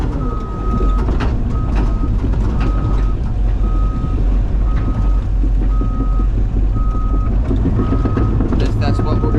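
Truck reversing alarm beeping at an excavation site in Miami, a steady repeating series of mid-pitched beeps over a loud low diesel rumble and machinery noise, with brief voices in the background.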